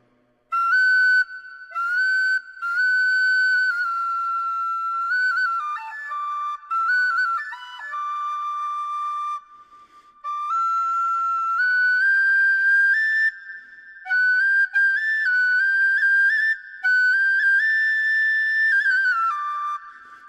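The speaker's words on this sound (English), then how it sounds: "yeah, it's a penny whistle rod." A penny whistle plays an Irish traditional tune with clear, bright sustained notes and quick ornaments. Phrases run on with brief pauses between them, close and loud, with no other sound.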